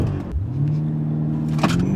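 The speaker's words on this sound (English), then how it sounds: "Launch control in this thing is absolutely violent." A BMW M5 CS sedan launches hard using launch control, its engine note dropping then climbing in a steady rising drone as it accelerates, loud and close with a brief clatter near the end.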